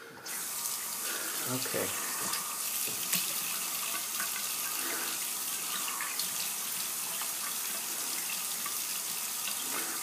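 A bathroom tap runs steadily into the sink while the face is wetted during a wet shave with a blade. The water makes a continuous, fairly close hiss throughout, and a voice speaks briefly near the start.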